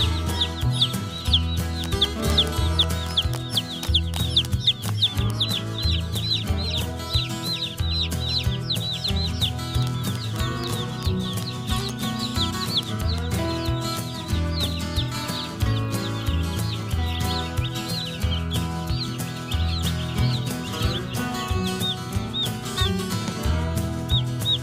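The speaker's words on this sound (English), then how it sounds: "But there's our chicks." Cornish Cross chicks peep constantly in a brooder, a dense, steady chorus of high chirps layered over a continuous low background, with no talking.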